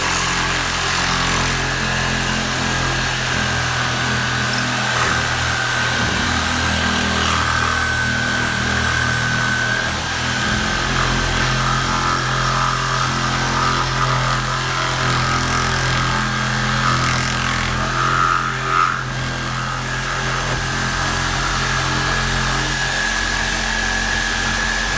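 A power tool cuts a small nub off a fiberglass part on a 1966 Nova race car build, a continuous harsh whirring drone with grinding noise that holds steady throughout.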